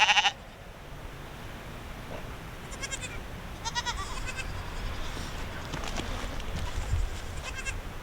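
Goats and sheep bleat in scattered calls over steady outdoor noise, several animals at middle distance, with a short loud burst at the very start.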